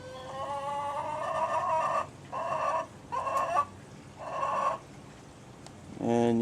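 Chickens cluck in several loud bursts close by, separated by short pauses, with a lower, fuller call at the end.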